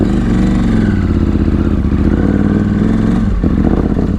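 KTM 790 motorcycle fitted with a new Rottweiler rally intake and a Power Commander tune: a loud, close engine drone held steady, with a slight drop in pitch near the end.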